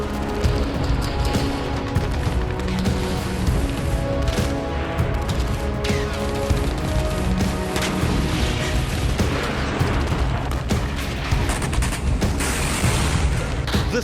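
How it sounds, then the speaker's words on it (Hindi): Multiple rocket launchers fire in a war zone, a dense continuous barrage of loud blasts and crackling reports with deep booming rumble underneath, sustained and without pause. "रूस के रॉकेट के जवाब में मल्टी रॉकेट लॉन्चर दागे जा रहे थे।"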